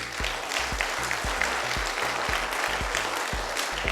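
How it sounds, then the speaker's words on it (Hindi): A seminar crowd at a sales career talk applauds loudly and steadily for a guest speaker, dense clapping filling the room without pause, with faint low rhythmic background music thumping underneath. "दीप्ति सर के लिए जोरदार तालियां"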